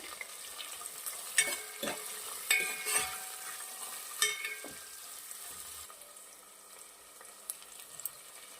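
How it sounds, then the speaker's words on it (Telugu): Finely chopped onions frying in a pan with shahi jeera and cloves: a quiet sizzle broken by scattered scrapes and taps from stirring, easing off near the end. "దీనిలోకి సన్నగా తరిగిన ఉల్లిపాయ ముక్కలు వేసి బాగా ఫ్రై చేయాలి"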